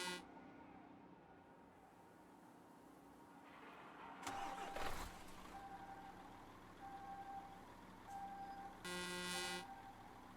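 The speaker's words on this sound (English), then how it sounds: "Here is the truck I'm driving." Truck engine in Euro Truck Simulator 2, a quiet, low rumble throughout with a louder burst partway as it starts or revs, plus intermittent dashboard beeps and a short horn-like tone near the end.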